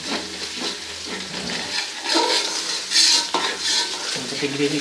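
Vegetarian spice masala is stir-fried in a pan with a soft sizzle under repeated scraping and clinking of a spatula against the metal, close and steady.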